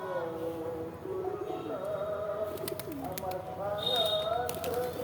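A pair of pigeons cooing nearby in a rural yard, with repeated low throaty coos overlapping through the clip, a few chirps and rustles mixed in, while someone talks over them.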